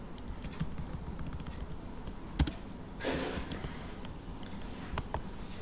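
Python code being typed on a computer keyboard, quiet, irregular key clicks close by with a couple of louder taps, with no talking over them.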